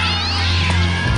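A cat meows loudly and close, one drawn-out caterwauling cry that rises and then falls, with no talking.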